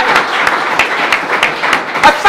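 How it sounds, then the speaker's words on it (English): A brief burst of group clapping with distinct individual claps standing out in a loose rhythm, fairly close and loud, with a voice briefly heard near the end. "How about a round of applause for PK?"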